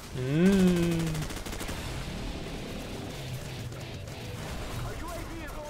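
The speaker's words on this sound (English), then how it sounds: "That's the normal airstrike." Airstrike explosions and gunfire in Call of Duty 4: Modern Warfare multiplayer, a dense burst of booms with an opening whistle-like sweep, then steady rumbling combat noise for several seconds with faint voices underneath.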